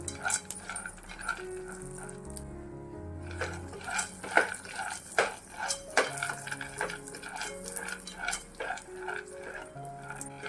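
Roasted peanuts heated in a little oil and stirred in a pan for groundnut chutney, with scattered clinks, rattles and scrapes of the spoon against metal over a faint sizzle.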